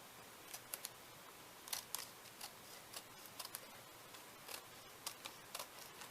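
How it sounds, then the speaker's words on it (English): Scissors trim plastic off a handmade glow-in-the-dark shaker card, giving a series of faint, crisp snips and clicks in an irregular rhythm, close and quiet, with no talk over them. "trim off this plastic"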